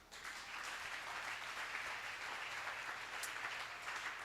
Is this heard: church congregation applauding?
yes